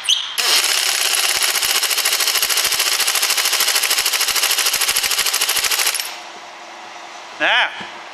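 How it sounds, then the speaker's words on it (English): Close and loud, an air compressor in a garage hammers away in a rapid continuous rattle for about six seconds, then cuts off, leaving a low hum and one brief squeal near the end. "I'm just going to wait till my compressor turns off"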